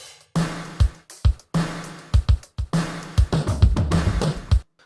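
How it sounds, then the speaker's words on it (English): A drum loop with default-setting gated reverb on the snare, each snare hit trailed by a thick burst of reverb that cuts off abruptly, kick and snare in a steady groove, loud and alone. "So, let's start with adding gated on the snare."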